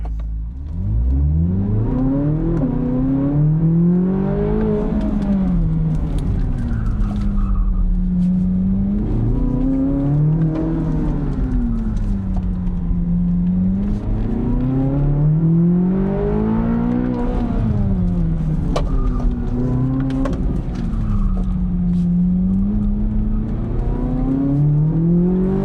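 A Corvette on a race track at a driving school accelerates and brakes through corners, its loud engine note rising and falling in repeated waves as it revs up each straight and eases into turns, close and continuous.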